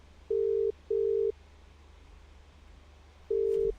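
Telephone call tones: two short beeps in quick succession, a pause, then a third beep, each steady and clear over a faint hiss of line noise.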